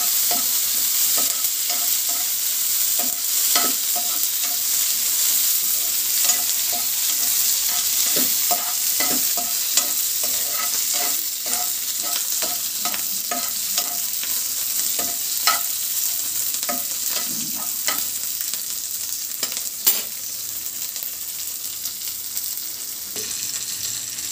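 Tomato chutney with mint fries in a pan, a constant sizzle broken by repeated scraping strokes of a spoon, close and fairly loud, with no talking.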